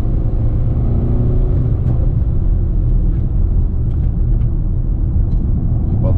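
A tuned BMW diesel car, a 535d or 320d with a stage 2 remap, pulls hard at full throttle, giving a loud, steady, close-up engine roar and rumble that holds throughout, with some faint talk underneath.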